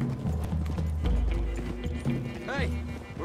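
Horse hooves clip-clop steadily at a trot in Red Dead Redemption 2, under ongoing game music and voices, with a horse's whinny rising near the end.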